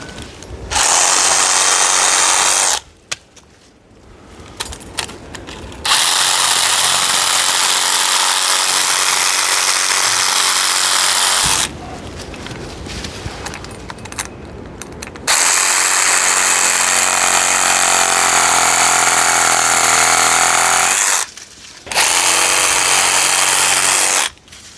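A Sawzall reciprocating saw fitted with an EZARC chainless chainsaw blade with Japanese teeth, pruning branches: loud, harsh buzzing cuts in three long bursts separated by brief pauses, with no talking.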